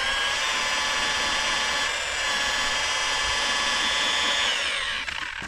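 A buffing wheel spins at a steady high whine, a screwdriver pressed against it to scrape off caked buffing compound; the loud, continuous tone holds for several seconds before spinning down at the end.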